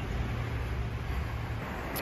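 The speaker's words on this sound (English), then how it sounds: "Here comes a motorcycle up behind me here." A motorcycle approaches from behind on a road, a steady low engine rumble filling the short stretch with no talking.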